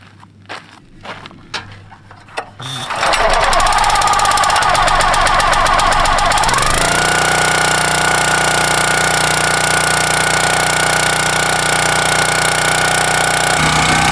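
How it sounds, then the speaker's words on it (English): A few clicks and pulls of a starter cord, then the small gas engine of a Countyline 25-ton log splitter sputters to life and settles into a loud, steady running roar. "All right, we're gonna start the engine."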